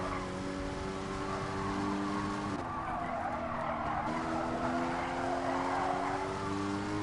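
Porsche Cayman race car in Gran Turismo Sport at Willow Springs, its engine droning steadily with a brief gear change and tyre squeal on a desert circuit, loud and continuous with no talk.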